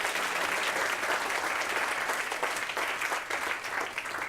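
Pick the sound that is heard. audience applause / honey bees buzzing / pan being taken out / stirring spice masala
audience applause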